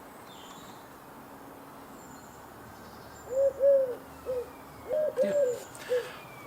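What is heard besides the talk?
birds calling in the garden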